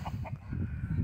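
A rooster on a Romanian farmyard gives two short clucks close by, over a steady low rumble of background farm noise.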